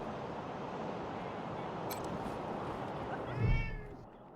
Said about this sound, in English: The cat slinks around your ankles.